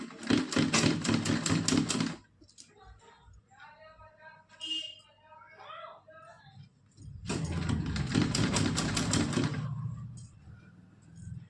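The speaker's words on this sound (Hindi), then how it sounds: "अब इस पे हम यहाँ से इस तरह से सिलाई लगाएंगे" A sewing machine stitches a small cotton dress for a Laddu Gopal idol, two loud bursts of rapid mechanical needle clatter separated by a quieter pause with faint handling noises and a voice.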